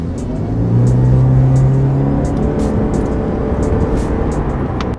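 A Lexus IS300h Sport Edition hybrid car accelerates with a loud, steady, close-up whirring engine drone that rises slightly and holds, with no speech.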